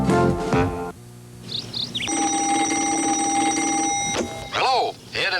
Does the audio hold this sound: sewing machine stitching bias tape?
no